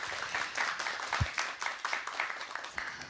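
Audience applause at a book concert with a Korean author, heard as a dense round of clapping from many hands. It stays even and fairly loud throughout, with a few low thumps mixed in.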